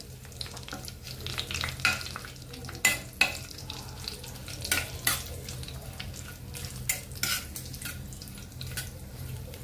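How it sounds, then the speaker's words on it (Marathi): Cinnamon, black cardamom and bay leaf sauté in oil for chole masala, a soft sizzle under frequent clinks and scrapes of a stirring spoon against the pan, close and without speech. "1 दालचिनीचा तुकडा आहे, मोठी विलायची आणि तमालपत्र घालून घेऊया। थोडंसं तेलावरती परतून घेऊया।"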